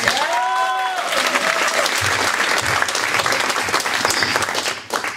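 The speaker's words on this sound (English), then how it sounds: "All right, so round of applause for Rodney Dangerfield." A comedy club crowd gives a loud, continuous round of applause after a Rodney Dangerfield impression. The clapping is dense and sustained throughout, and a brief voice sounds over it at the start before it tapers at the end.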